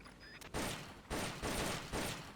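Gunfire from Metal Gear Solid Peace Walker during shooting practice at a coconut, sounding as four loud broadband bursts spaced about half a second apart, with quieter tones between them.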